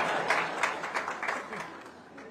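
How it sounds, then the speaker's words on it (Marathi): Audience applause at an awards ceremony, a dense patter of many hands clapping fairly close, with clustered bursts over about two seconds and some voices mixed in. "या मुद्द्यावर सगळ्या नवरे लोकांनी टाळ्या वाजवायला पाहिजे"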